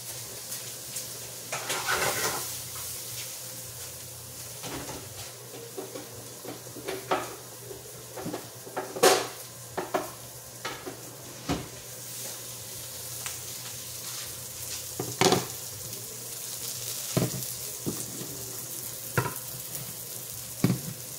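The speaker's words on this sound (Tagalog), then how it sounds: "Ginisang hipon." Atlantic tiger shrimp sauté in a pan for an appetizer, giving a steady low sizzle broken by frequent sharp clinks and scrapes of a utensil stirring against the pan, moderately close with no talking.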